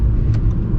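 An Audi R8 V10 engine and exhaust roar loud and close in first gear under dynamic mode, a deep steady rumble with faint gargling crackle over less than a second.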